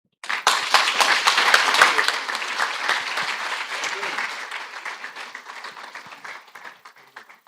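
An audience applauds a speaker at a wealth creation and life skills training event, with a loud burst of clapping that gradually thins and fades over several seconds, dense and close.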